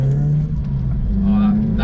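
Modified Nissan Micra with a tuner-sounding engine, a steady low rev holding then rising slightly, close and loud, with people talking over it.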